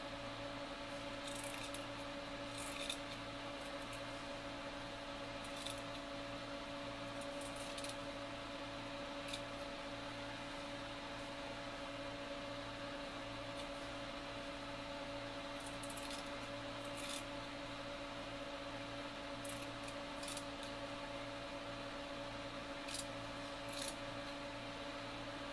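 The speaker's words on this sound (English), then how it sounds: "I think my scissors need sharpening" Scissors cutting fleece fabric for a jacket, soft intermittent snips at close range over a constant low background hum, with the blades somewhat dull.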